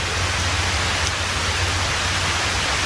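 Light misty rain blows under a tarp among trees in the woods, a dense steady hiss that carries on loud and unbroken throughout.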